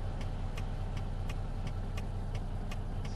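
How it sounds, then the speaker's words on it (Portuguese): Peterbilt 389 truck engine in American Truck Simulator, a low steady idling rumble with faint regular ticking pulses, continuous and without talk. "Dá uma olhadinha depois, Alex, o barulho que esse trem faz."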